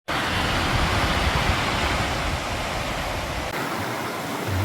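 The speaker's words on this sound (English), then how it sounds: "the waterfall, an 80-foot waterfall, like right over that horizon." An 80-foot waterfall near a campsite on the Foothills Trail roars steadily, a dense unbroken rush that stays loud and even throughout with no voices.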